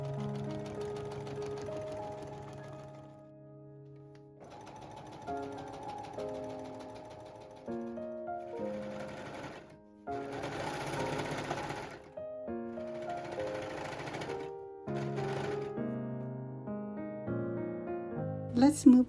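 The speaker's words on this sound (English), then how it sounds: "Then finish the rest of the side seams. And don't forget to serge." A serger sewing machine stitching side seams of a mermaid skirt, running in steady mechanical bursts that start and stop several times, close and fairly loud, with a voice speaking over part of it.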